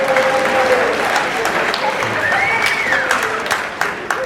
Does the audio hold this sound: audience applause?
yes